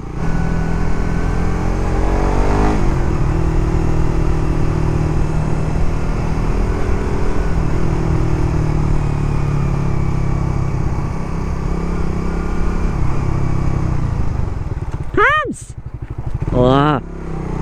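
Suzuki Raider 150 Fi motorcycle riding at steady speed, a continuous loud engine drone with a rising rev near the start and sharp upward-sweeping revs near the end.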